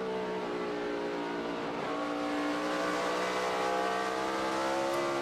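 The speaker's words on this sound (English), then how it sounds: "Richard Petty's cars are 1-2 as they come off turn one." NASCAR Sprint Cup race cars at Watkins Glen roar continuously at high revs, loud, with a shifting engine pitch as they come off a turn, with no clear talk.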